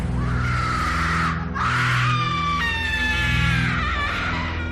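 A shrill, wavering scream sound effect from a horror story, loud and close, in two long drawn-out bursts with a brief break, over a low droning background.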